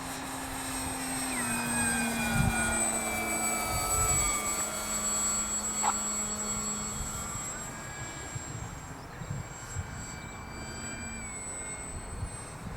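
An RC model airplane flying in gusty wind, its motor whining at a moderate distance with a faint pitch that shifts slightly as it turns, steady over background wind noise.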